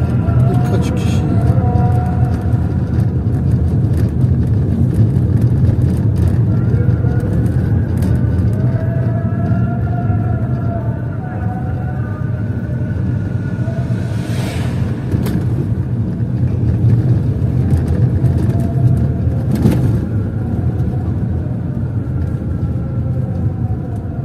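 Cars driving along Cumhuriyet Caddesi, a city street in Erzurum, make a continuous low traffic rumble heard from inside a moving vehicle, with a couple of faint passing whooshes, while someone talks over it.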